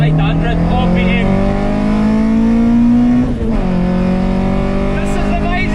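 A Volkswagen Mk1 Golf with a 2.2L ABF engine and individual throttle bodies revs hard and close, its pitch climbing steadily before a sharp drop at a gear change and another rise.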